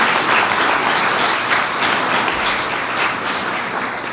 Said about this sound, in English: let's give a round of applause to all of these wonderful people